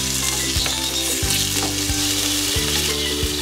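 Mushrooms fry in butter in a pan on a cooker, a loud, continuous, close sizzle with occasional clicks and scrapes of stirring and no talk.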